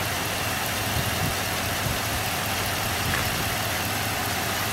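A car engine runs steadily at idle, a constant low mechanical hum with faint vibration under a wet engine bay where pulleys splash dripping water, continuous and close with no voices.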